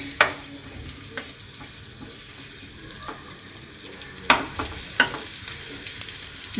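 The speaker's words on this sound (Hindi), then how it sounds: "इसमें कटा हुआ लहसुन डाल दे रहे हैं, हरी मिर्च, और इसे हम भून लेंगे थोड़ा सा," Chopped garlic and green chili frying in a pan, a soft steady sizzle with occasional sharp clicks and taps of a stirring spoon against the pan.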